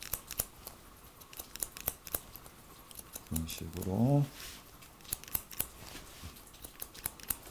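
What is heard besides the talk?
scissors cutting hair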